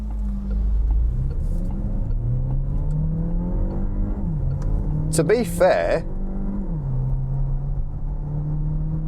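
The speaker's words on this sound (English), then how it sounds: "I can hear the engine's quite gruff at the minute" A Peugeot 3008 hybrid SUV accelerates hard in sport mode, its engine giving a gruff, steady drone that climbs in pitch and drops at gear changes, with a voice talking over it and a brief clatter midway.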